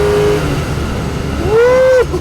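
A BMW E9 coupe fitted with the S38 engine from an E34 M5 revs up close, the engine note climbing steadily to a high-pitched peak, holding briefly, then dropping off sharply as the throttle is released.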